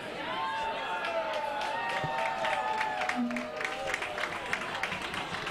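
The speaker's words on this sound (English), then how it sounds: "I believe that's clapping for the world" Crowd applause at a curling match after the United States beats Denmark, steady clapping spread through an arena, moderately distant, with scattered voices and cheers mixed in.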